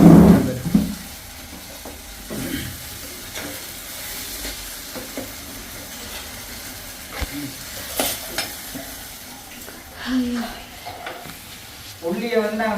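Garlic fries in a pan with a soft, low sizzle, interrupted by a few louder stirring clatters and pan knocks, all close by.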